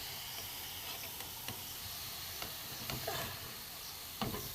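Wheat-flour khasta biscuits fry in hot oil with a steady, close sizzle and bubbling hiss, broken by a few sharp crackles and pops as pieces shift; nobody speaks.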